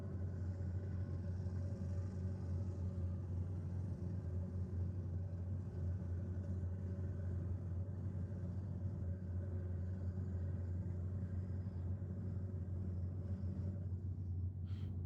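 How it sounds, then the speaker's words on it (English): A Camaro drag car sits on the start line, its engine holding a deep, steady low idle rumble that struggles to build boost. The sound stays constant and moderately loud, with no voices. "Car not looking like it wants to build boost on the start line."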